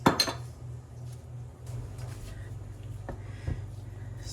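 An enamel-lined braiser pan handled in a home kitchen, with a sharp clatter at the start and then scattered light knocks and clinks against a steady low hum, close and fairly quiet.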